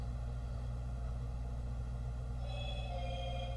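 A phone rings faintly over a steady engine-like hum, its electronic tone starting about two-thirds of the way through and continuing to the end, with no voices.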